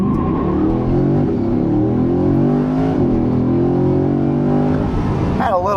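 A Chevrolet Corvette C8 Grand Sport, running the same rear tires as the Z06, accelerates hard with a brief moment of wheelspin. The engine note climbs steadily and loudly from start to finish with no break.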